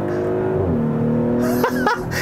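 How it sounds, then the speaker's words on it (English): A 2019 Audi SQ5 engine and exhaust accelerate from a steady drone into a rising rev, with a brief shift dip near the end, heard from inside the car. "this is the whole reason why you bought an SQ5 over the regular Q5, because of that noise, the acceleration"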